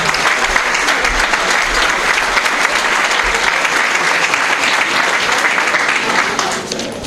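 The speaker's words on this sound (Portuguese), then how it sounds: "Aplausos para este." Loud, sustained applause from a crowd at a Socialist Party lunch gathering in São Pedro do Sul, continuous clapping throughout that eases slightly at the end.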